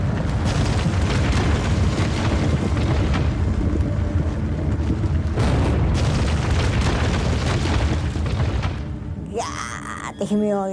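Fat Man atomic bomb detonating over Nagasaki, a 22-kiloton blast: a sustained, loud roaring rumble that fills the whole clip, fading near the end into a fluttering, swirling tail.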